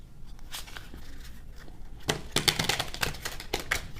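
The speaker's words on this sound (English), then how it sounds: "Gonna do one more shuffle, then cut." A deck of cards being shuffled nearby, a quick riffle of rapid crisp flutters after a few softer taps, with no talking.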